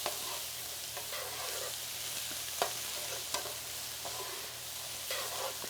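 Onions with salt sizzle steadily in a pan on high heat, a constant close frying hiss broken by occasional light stirring clicks.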